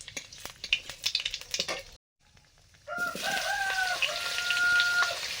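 Dry red chillies and five-spice seeds drop into hot oil and burst into a sustained hiss after a brief clattering and a pause, while a rooster crows in the background.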